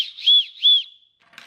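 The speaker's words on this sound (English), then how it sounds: "There's a whistle" A small plastic whistle from a survival kit is blown twice in quick succession, producing loud, shrill tones close to the microphone, followed by a short fading trail and brief rustling, with no talk.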